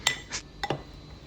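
Chicken breading being mixed in a bowl: several quick, sharp clinks and scrapes of a utensil against the bowl, close up, in short irregular knocks.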